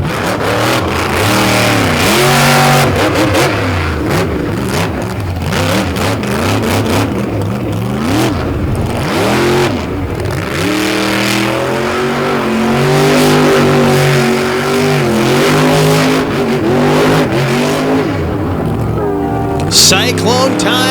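A monster truck at a Tennessee event revs hard, with loud, surging engine roar rising and falling throughout, while an announcer talks over it.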